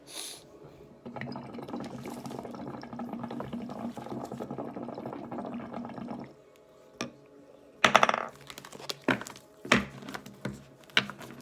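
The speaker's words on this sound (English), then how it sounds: "Let me just hit this hookah." Water bubbles in a hookah as it is smoked, a steady gurgling drawn for about five seconds, followed by a pause and then scattered knocks and clinks nearby.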